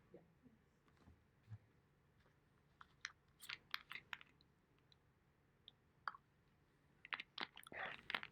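Keystrokes on a computer keyboard during programming, a scattered run of quiet clicks and taps that thickens into a denser burst near the end, with no talking.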